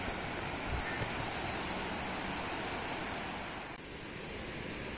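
A rocky river at Chor River Campsite in Sahom, its water rushing over many stones in a steady, loud, broadband wash that holds evenly throughout with no voices.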